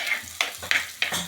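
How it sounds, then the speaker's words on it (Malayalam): Green chilies, tamarind and garlic are stirred as they fry in a pan. A spoon scrapes and knocks against the pan about four times in a steady rhythm over a soft, continuous sizzle. "ഇനി നമുക്കൊന്ന് ഇളക്കി കൊടുക്കാം."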